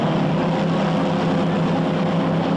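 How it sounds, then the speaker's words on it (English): Two supercharged alcohol-burning Pro Comp dragsters at a 1978 NHRA drag race, a loud, steady engine roar sustained without break, with no talk. "These two cars very similar, alcohol-burning dragsters, supercharged engines, but running on alcohol."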